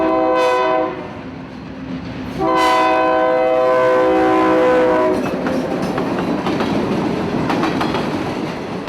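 Two loud blasts of a train horn sound, then a Florida Central freight train rolls by in Orlando with steady rumbling and clattering wheels.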